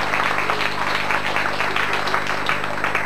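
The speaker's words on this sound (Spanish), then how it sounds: "la vamos a recibir con un fuerte aplauso a Joana" An audience at a school poetry contest applauds a young participant coming up to recite, a sustained patter of clapping hands with a faint hum beneath.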